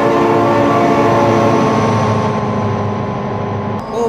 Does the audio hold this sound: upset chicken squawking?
no